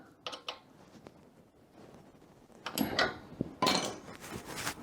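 Small metallic clicks, scrapes and a ratcheting rattle up close as a threaded part is tightened on a CF Moto 700 CL-X motorcycle, quiet at first and then a louder burst of clatter near the end.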